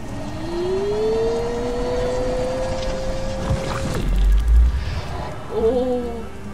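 A motorbike engine hums and revs steadily in the video game Beyond, its pitch rising then holding, with a thud and brief bursts of noise near the end.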